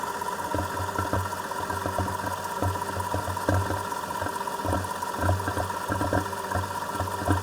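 A car engine idles with a clogged PCV system, producing a steady hum overlaid by a regular, repeating tick or knock heard up close, with no talking.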